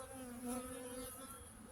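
Honeybees humming at a hive entrance as foragers bring in pollen on a late-October day, a steady close buzz of many insects with no talk.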